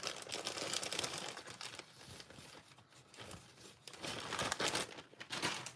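Hands rummage through a big bag of white and black paper scraps, giving continuous crinkling and rustling with brief louder shuffles, close and fairly quiet, with no talk.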